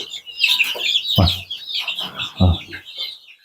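Young 60-day-old chickens clucking close by in a poultry house, several short soft calls with a few louder bursts, while a person talks over them.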